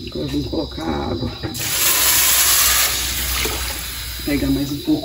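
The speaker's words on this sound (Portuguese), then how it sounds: "Agora vamos colocar a água." Water is poured into a hot pan of beans fried with garlic, giving a loud rushing hiss of steam that swells and then fades, with a person talking before and after.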